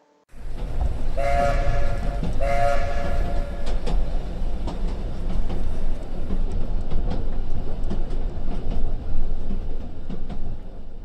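A steam train rumbles and clatters along the rails, loud and close, with two short whistle blasts near the start and rhythmic clicks of wheels.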